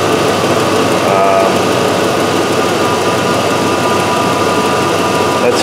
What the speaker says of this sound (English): We'll let the idle come down as it warms up here.